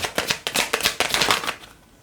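Tarot cards are shuffled by hand in quick bursts of crisp, papery flutters, about a dozen close-up rustles in two seconds before fading out.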